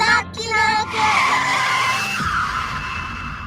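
Car engine revving with tires skidding in a radio ad sound effect, a loud close screech that swells and then fades away over a few seconds.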